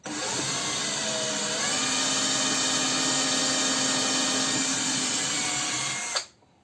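Power drill boring a hole in wood, a loud steady high whine held for about six seconds before stopping abruptly.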